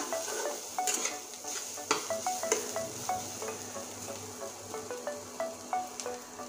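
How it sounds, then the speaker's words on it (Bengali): Bitter gourd fries in a pan under a soft, steady sizzle, punctuated by regular light taps and clicks of a utensil stirring against the pan. "দেখুন করলাটা ভেজে নিচ্ছি, এখনো ভাজা হয়নি, আর একটু ভাজতে হবে"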